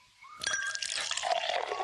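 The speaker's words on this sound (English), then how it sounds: "The lemonade is all ready. Let me pour you a glass." Lemonade poured from a pitcher into a glass, one short close trickling pour that rises in pitch as the glass fills.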